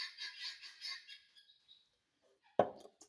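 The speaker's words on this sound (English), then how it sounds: "Don't mind about those birds." Birds call outdoors in high, chattering, squawking bursts that fade out, leaving a quiet gap before a single sharp knock, all faint.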